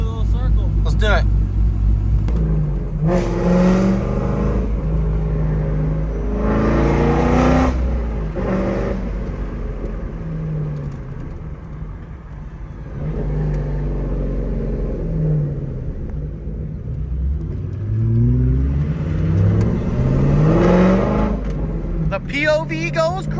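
An old Chevrolet Corvette C5 V8 rumbles loudly up close, revving repeatedly in rising bursts over a deep idle, with someone talking throughout.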